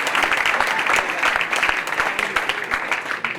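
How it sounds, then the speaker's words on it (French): A crowd at a French football federation ceremony honouring a former vice-president applauds in steady, dense, continuous clapping, with voices mixed in underneath. "Je crois qu'on peut les applaudir."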